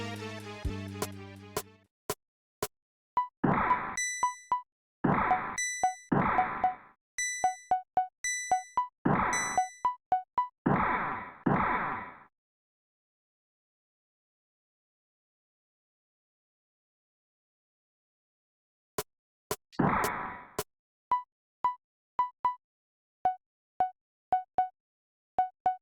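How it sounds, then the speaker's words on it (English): A bell rings in the Super Nintendo game Breath of Fire II: repeated chiming dings in short rhythmic runs, then a long silence before more rings, with small blip effects between them. "Would you mind taking his place and helping me ring the bell?"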